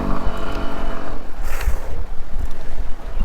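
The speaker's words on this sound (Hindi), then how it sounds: "गाइस हवा एकदम तेज़ चालू है भाई." Strong wind buffets the microphone during a long-distance bicycle ride, a rough gusting rumble that swells and fades in uneven bursts, close and loud.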